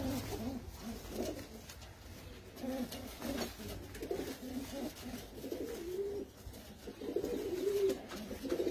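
Prize-winning pigeons in a loft coo steadily, with soft overlapping throaty calls rising and falling close by, over a low background hum.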